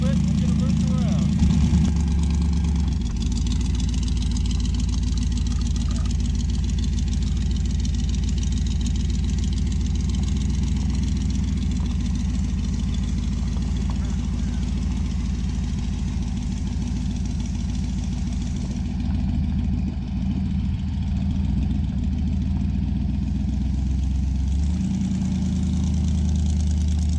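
A 1966 Dodge Dart GT with a 273 V8 and a big NASCAR-style cam idles as it warms up, a loud, steady, close rumble that holds for the whole stretch without a break.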